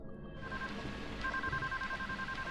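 A telephone rings in the video game Deadly Premonition: Origins, a faint electronic ringing tone in short repeated bursts over a low background hum.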